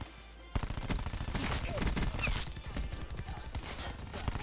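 Rapid gunfire from the Cordite weapon in Black Ops 4 multiplayer, a dense run of repeated shots that starts abruptly and keeps going over loud game sounds and music.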